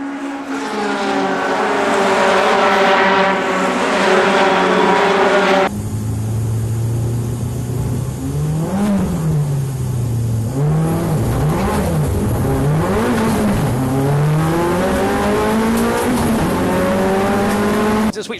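A full grid of Renault Megane race cars launches at a Donington Park race start, engines roaring loudly and continuously with rising revs, gear-change dips and overlapping cars accelerating nearby, with no talk.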